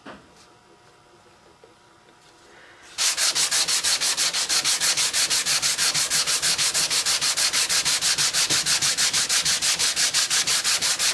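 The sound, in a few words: sanding a figured maple guitar body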